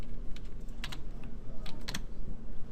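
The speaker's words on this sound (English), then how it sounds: "we can open up Maya by typing in Maya 2014." Keystrokes on a computer keyboard while entering text to launch Maya 2014 animation software, several quick clustered taps in an irregular rhythm over a steady low hum, close and clear with no talking.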